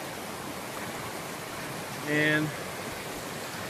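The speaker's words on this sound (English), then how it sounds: "This is Nambe Creek," Nambe Creek, a small mountain stream in the Pecos Wilderness of New Mexico, flows with a steady, even rush of water throughout, while a person speaks briefly over it.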